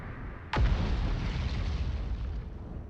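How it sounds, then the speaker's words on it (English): A sudden loud boom from an explosion in the video game Outer Wilds, a sharp onset followed by a long rumbling roar that stays dense and slowly fades over the next couple of seconds, no talk. "I just see a random explosion in the..."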